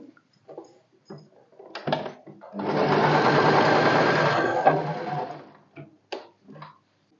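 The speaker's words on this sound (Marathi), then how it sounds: "पुन्हा बॅक स्टिच घेईन." Sewing machine running a back stitch on salwar fabric, a short burst of rapid mechanical stitching in the middle, framed by light clicks and handling noises before and after.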